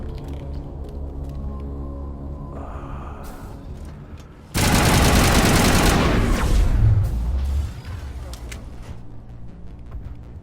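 A loud burst of weapon fire from a hip shot erupts during a Mass Effect battle against Geth at a colony, a dense, sustained blast lasting a few seconds over steady game ambience and music.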